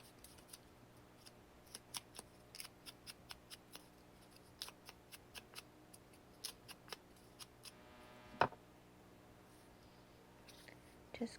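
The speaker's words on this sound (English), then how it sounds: "I'll just trim around the excess doily there" Scissors snipping excess paper doily from an altered playing card, a quiet, close series of crisp cuts in an irregular rhythm over near-silence.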